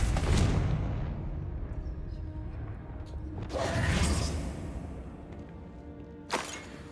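In Hogwarts Legacy, a Confringo fire spell bursts at the start with a loud whooshing blast, followed by a second surge around the middle and a sharp crack near the end, all over a rumbling background.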